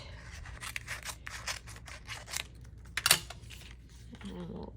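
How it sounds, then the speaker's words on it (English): Scissors snip through an adhesive sticker sheet up close, a series of crisp, quick cuts with a sharper snap near the end. "And let me grab my scissors"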